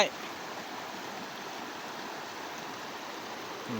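Steady broadband rush of flowing river water, constant and fairly close, with no other distinct sounds standing out.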